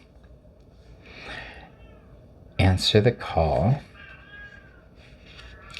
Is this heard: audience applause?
no